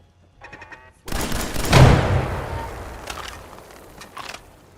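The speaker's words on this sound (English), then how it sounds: "God damn, the explosions are loud." Loud explosions and gunfire from the video game Fallout 4 burst in after a moment of quiet, with a big blast rolling off into a long decaying rumble and a few smaller pops trailing after.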